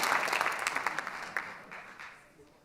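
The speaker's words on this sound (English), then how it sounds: "Hold your applause." Audience applause at a town deliberative session, a dense burst of clapping from the crowd that starts strong and gradually thins out and fades as the room settles.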